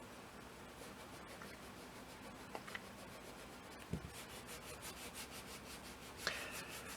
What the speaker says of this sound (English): I'm barely holding on to the eraser at all